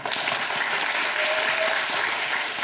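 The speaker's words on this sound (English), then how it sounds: "Please welcome Mr. Kanada with a big applause" An audience at a lecture event in Tokyo claps to welcome a speaker, a dense and steady round of applause filling the whole clip, with no talking.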